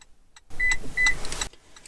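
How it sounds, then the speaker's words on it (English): Toyota Prius beeping twice during smart key programming: two short, clear electronic tones a fraction of a second apart, heard close up inside the car over a low background hum. "It beeped twice."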